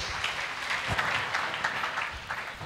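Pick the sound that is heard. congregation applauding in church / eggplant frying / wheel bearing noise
congregation applauding in church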